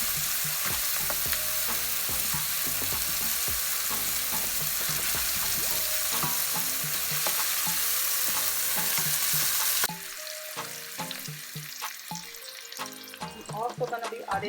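Curried garbanzo beans sizzle loudly in a hot pan while being stirred, a dense close frying hiss with repeated scraping strokes that drops off abruptly partway, leaving quieter clatter afterward.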